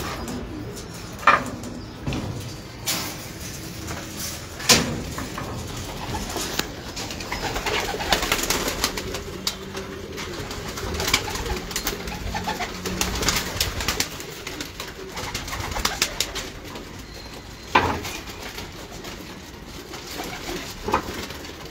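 Pigeons in a home loft coo repeatedly at close range, soft throaty calls recurring over a steady background of shuffling and flutter, with a few sharper knocks.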